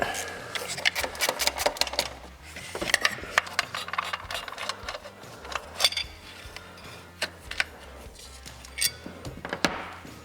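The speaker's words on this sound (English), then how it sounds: "now we can access these bolts and unbolt this bracket" Bolts on a bracket of a Duramax LB7 diesel engine are worked loose with hand tools, giving irregular metallic clicks, ratchet rattles and clinks close by, in quick bursts with short pauses.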